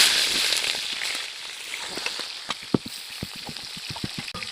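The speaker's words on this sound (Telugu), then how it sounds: "పచ్చిమిరపకాయలు ఉల్లిగడ్డలు వేసుకున్నాం." Green chillies and onions frying in hot oil in a pan, crackling and popping in a steady scatter of sharp spits over a soft sizzling hiss, close and moderately loud with no voices.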